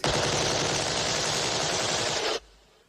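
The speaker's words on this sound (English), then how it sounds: "One of the final sequences of the film is all the hunters being lined up and shot." A loud, continuous volley of rapid automatic gunfire in a film scene where hunters are lined up and shot. It runs unbroken for over two seconds, then cuts off abruptly into near silence.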